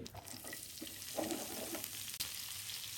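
Onions and a few dried red chillies frying in leftover oil after fish was fried, a steady close sizzle with crackling and occasional stirring scrapes, no voices.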